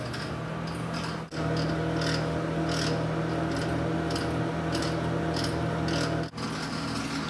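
A microwave runs steadily while heating a Banquet meat loaf dinner, giving a constant low hum with a faint rattling whir, briefly dipping twice.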